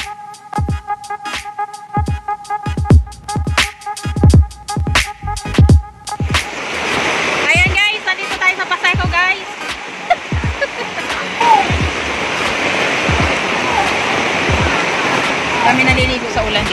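Heavy rain pours down at Baseco beach in a dense, steady hiss, with sharp clicks and knocks early on before the downpour takes over.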